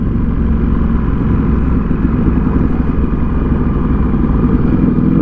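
A Ducati V4S Speciale motorcycle with 226 horsepower is ridden on the road, and its engine roars loud and steady with constant wind rush throughout.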